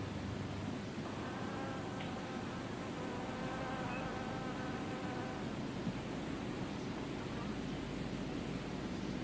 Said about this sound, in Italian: I piccoli fiori profumati attraggono una grande varietà di insetti